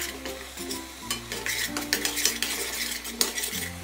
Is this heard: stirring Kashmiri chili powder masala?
yes